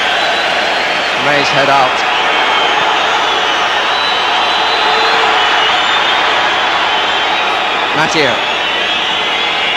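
Football stadium crowd at a Manchester United versus Liverpool Premier League match, a dense continuous roar with whistling rising from the stands, while a commentator talks over it.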